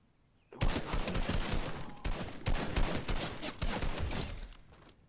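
Dense, continuous automatic gunfire in the Fortnite video game, loud and sustained for several seconds with rapid overlapping shots and brief dips, no talking heard over it.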